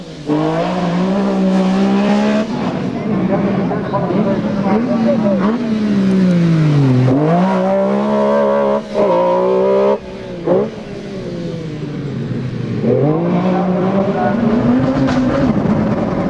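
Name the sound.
rally car driving a stage with a missed gear change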